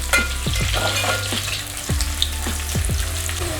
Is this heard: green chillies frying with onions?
yes